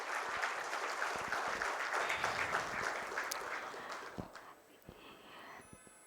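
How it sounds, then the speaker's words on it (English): Steady applause from an audience celebrating a company's stock exchange listing, moderately distant and sustained for several seconds before tapering off into scattered claps. "a huge round of applause for that milestone."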